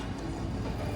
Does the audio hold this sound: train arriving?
yes